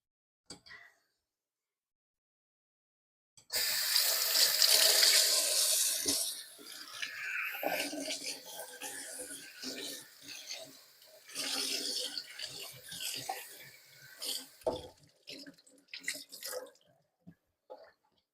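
Water from a tap runs steadily into a kitchen sink during cleaning, a close hissing rush that starts abruptly, then breaks into uneven splashes and trickles as the flow shifts.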